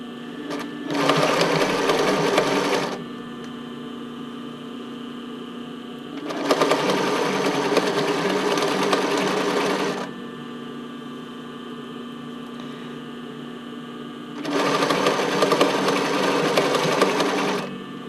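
A domestic sewing machine stitches elastic onto a lace-up tank top in three steady bursts of several seconds each, with quiet pauses between them, close and fairly loud.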